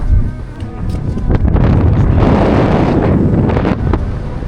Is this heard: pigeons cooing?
no